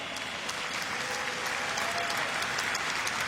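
A tennis crowd at the U.S. Open boys' singles final gives sustained, dense applause for the two finalists, Wild and Musetti, a steady roar of many hands with no pauses or talking.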